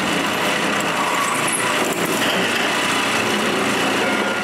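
A power drill fitted with a concrete masonry bit bores through metal while building a mobile workbench, a steady high-pitched grinding whine that runs loud and unbroken throughout.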